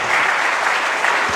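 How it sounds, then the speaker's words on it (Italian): A big round of applause from an audience at the Terme Tettuccio in Montecatini Terme, a dense, steady wash of many hands clapping throughout, loud and close, with no voices over it. "accogliamo anche lui con un grande applauso"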